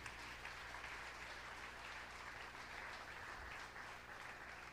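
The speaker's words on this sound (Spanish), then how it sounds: "¿Cuántos le dan un aplauso al Señor, hermanos?" Faint applause from a church congregation at a Spanish-language evangelical service, a steady, distant wash of clapping heard over a low hum, lasting several seconds without speech.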